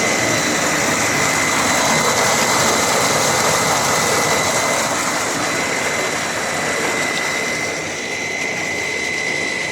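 Water gushes steadily from a tanker pumped by a generator, a loud, constant rushing roar with an engine-like hum that holds nearly level throughout.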